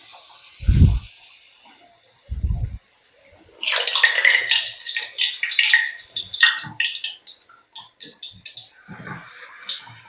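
Puri dough goes into hot oil and erupts into a loud, crackling, bubbling sizzle that fades in uneven spurts, after a couple of brief low voice sounds at the start.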